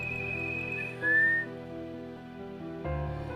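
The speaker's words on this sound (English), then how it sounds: "Let's just whistle." A whistled signal in Punishing Gray Raven: a clear, bright sustained note, then a short rising glide, heard alone over a soft layered musical backdrop that shifts near the end.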